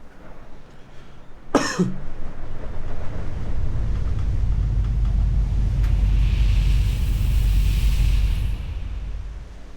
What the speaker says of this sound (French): il y a du vent chez moi